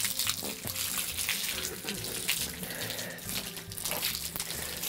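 Water running steadily as shampoo is rinsed out of a horse's mane, a continuous close splashing flow with a voice talking over it.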